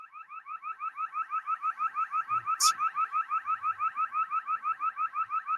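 An alarm siren sounds outside, a steady rapid warbling whoop repeating about six times per second throughout, moderately loud and unbroken, with a brief sharp click partway through.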